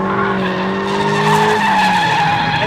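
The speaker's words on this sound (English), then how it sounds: "Hard on the brakes." A front-engine, rear-wheel-drive sports car braking hard on a track, tires squealing in a loud, sustained tonal skid over the engine noise, with no talk.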